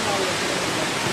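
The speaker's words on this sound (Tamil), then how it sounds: "நல்லா ஹைட்டாக இருக்குது தண்ணி வருது." Water pours down the tall Abbey Falls in Coorg, a brief, dense, steady rushing roar filling the whole sound.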